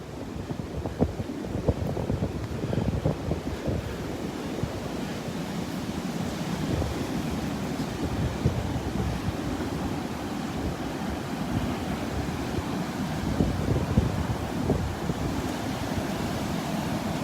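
Steady roar of ocean surf washing onto Delnor-Wiggins beach on a windy, rainy morning, with gusting wind buffeting the microphone throughout.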